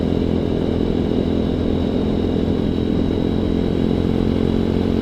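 A ZS190 Grom clone motorcycle engine drones steadily at a moderate pace while riding, a continuous mid-pitched hum with wind rush and no speech.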